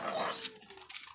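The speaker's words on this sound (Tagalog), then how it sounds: "Yung aso nila, ayan." A dog at a neighborhood store makes brief close-up noises with soft whimpering and crunching, as though chewing, while a person talks quietly nearby.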